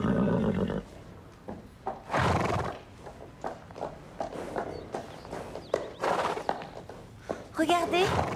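A horse neighs loudly in short whinnying bursts in the animated series Grand Galop, mixed with clip-clop hoof steps and thuds nearby, while people speak French between the calls.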